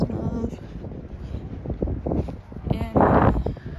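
Gusting wind buffets a microphone outdoors, giving low rumbling blasts that swell loudest near the end, under and between a person's talking.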